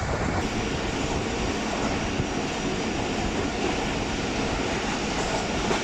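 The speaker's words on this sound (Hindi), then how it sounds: "अभी रेती रेलवे स्टेशन से पास होगी 27 अब शालीमार एक्सप्रेस" Shalimar Express train running on the rails between Karachi and Lahore, a dense, continuous roar of wheels and rattling carriages heard from close by, steady and loud throughout with no voices.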